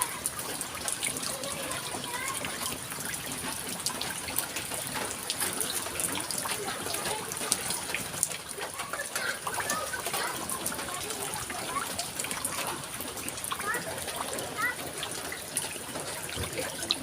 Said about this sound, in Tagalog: Lakas ng ulan. Baha na naman. Pasok na sa bahay.